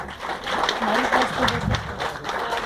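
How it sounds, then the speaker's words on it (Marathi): Audience at a Marathi poetry gathering breaking into strong applause for a friend, a dense, steady wash of clapping lasting a few seconds, fairly close and loud with some voices mixed in. "जोरदार टाळे त्यांच्यासाठी"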